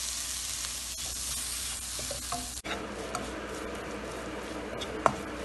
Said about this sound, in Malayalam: ടൊമാറ്റോ ഇട്ട് നല്ലോണം ഒന്ന് ഇതിൽ ഫ്രൈ ചെയ്യുക.